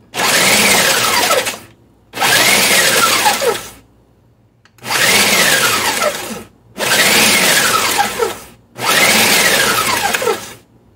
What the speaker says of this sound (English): Get the last of it in my Ninja Auto IQ Professional Processor, and we're going to put the chop